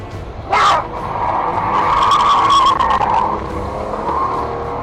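A car speeds away on a road in dash cam footage, with a sharp burst near the start followed by a sustained engine roar and tire noise that stays loud throughout.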